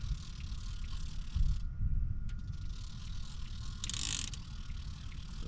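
Steady rapid ratcheting clicks from a fishing reel's drag as a catfish pulls line off a rod set out from a boat, close and continuous over a low hum of background noise.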